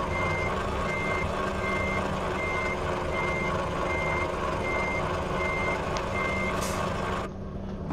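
A reversing truck in a video game truck show emits a steady run of evenly spaced beeps over continuous engine rumble, cutting out near the end.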